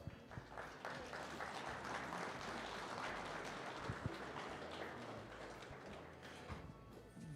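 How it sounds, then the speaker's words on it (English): Steady, dense crowd applause fills the hall for the exhibitors at the Eastern Ontario/Western Quebec Championship Show, holding an even level throughout with no break. "Let's give all the exhibitors a nice round of applause."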